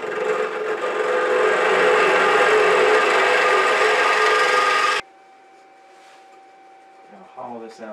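A lathe tool scrapes wood while an apple-shaped box is being turned: a loud, steady, broadband scraping for about five seconds that cuts off abruptly, leaving quiet room tone with faint tonal ringing and a brief knock near the end.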